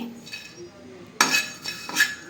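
Shrimp being fried and stirred in a pan, with a quiet sizzle under sharp metal utensil clinks and scrapes against the pan, including a louder clatter partway through.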